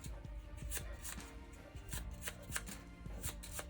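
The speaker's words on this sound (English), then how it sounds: "we'll shuffle this one back into the deck" A single game card is shuffled back into a deck at a tabletop board game of Descent: Journeys in the Dark, giving soft rapid riffling clicks, faint and close, with no talking.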